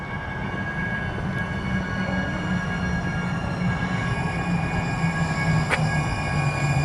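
A new light-rail train runs steadily on its line, a continuous low rumble with tonal whine and a faint wheel squeal near the end, heard from onboard without talk.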